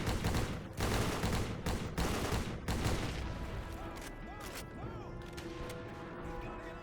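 Dense video game battle gunfire on a beach assault mission against distant machine gunners: sustained loud bursts and volleys of shots with booming impacts, easing slightly toward the end while metallic ringing tones drift through.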